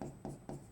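Marker or chalk strokes on a board during a chemistry lesson, three quick scratchy strokes in a steady rhythm, faint and close.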